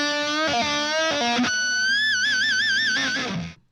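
Electric guitar lick played alone through effects, with clipped picked notes, then a sustained bent note with rapid trills and a wavering vibrato, ending in a quick cutoff.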